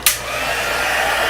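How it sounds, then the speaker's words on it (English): A heat tool blows steadily to heat-set stamped alcohol ink on a 3D embossing folder, a constant whooshing air roar starting with a brief click and running unbroken without talk. "I think I'm going to grab my heat tool. And we'll just heat set that a little bit."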